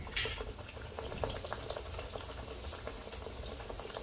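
A Dhakai paratha lowered into plenty of hot oil in a kadai: a quick hiss at the drop, then continuous bubbling sizzle, close and moderately quiet.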